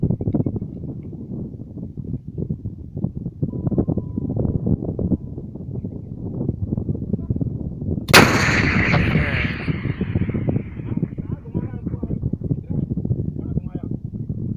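A Carl Gustaf M4 rocket launcher fires once with a sudden loud blast that rings off into a noisy rumble, set among Indian army troops, with voices heard before and after the shot.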